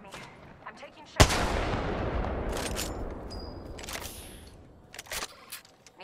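A loud, close gunshot cracks out in a shooter video game, followed by a long rumbling decay, with a few more shots and clatter toward the end.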